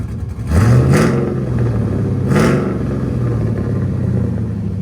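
A car engine fitted with an aftermarket muffler is revved twice from idle, each blip rising sharply then settling back into a steady, deep idle rumble, loud and close with no talking.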